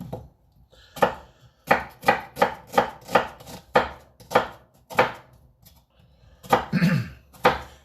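Knife chopping half an onion on a cutting board in a home kitchen: a series of about a dozen crisp, close, evenly spaced chops, pausing briefly before a final few strokes, with no talking.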